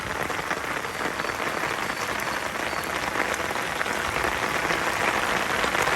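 Steady rain pours over a home yard, a dense, even hiss of drops hitting the ground and surfaces that stays constant and close throughout, with no voices.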